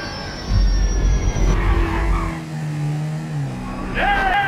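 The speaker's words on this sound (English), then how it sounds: "Plane's coming down." Engine drone of a plane in the video game GTA 5, with whining tones that rise and fall in pitch during a shooting mission, mixed with game effects and talk from players.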